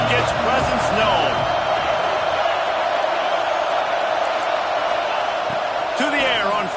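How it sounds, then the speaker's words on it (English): A stadium crowd roars throughout a college football game between Ohio State and Alabama, a broad, sustained wash of noise with a commentator talking over it and occasional whoops and bangs. "This crowd ready to make its presence known."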